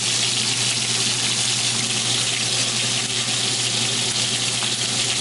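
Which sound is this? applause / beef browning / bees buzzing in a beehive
beef browning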